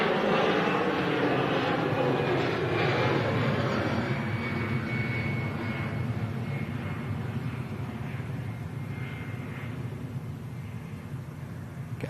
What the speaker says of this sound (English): EasyJet is rolling and rotating.